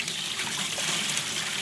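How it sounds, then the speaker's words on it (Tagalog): Water pours steadily into a container in a home, a continuous broadband rush like a running tap, close and fairly loud with no talking over it. "So, lagay na natin ng tubig."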